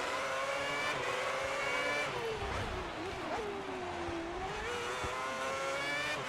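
Formula 1 cars in the F1 2010 video game launching off the grid at the Korean Grand Prix start, a loud continuous engine roar with revs rising and falling as multiple cars accelerate together.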